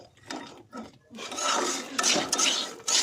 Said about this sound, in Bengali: দেখতে পাচ্ছ বন্ধুরা, বাদাম ভাজছে, কাঁচা বাদাম